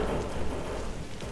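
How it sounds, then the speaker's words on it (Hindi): Heavy in-game rain from the shooter Arena Breakout pours steadily, a dense, even hiss of rainfall with a low rumbling undertone and no voices. "वो भाई साहब बारिश और भी तेज हो गई।"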